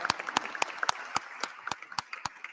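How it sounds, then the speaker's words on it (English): A small group claps at a congressional hearing, with distinct, sparse, fairly quiet individual claps in an uneven rhythm rather than a dense ovation. "Give them a round of applause,"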